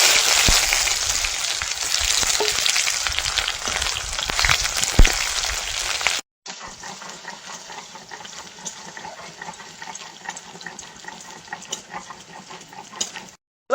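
Chopped onion fries in hot oil tempered with dried chili, cumin and bay leaf, giving a dense, continuous hiss and sizzle up close, then a quieter, gentler frying stretch for the second half.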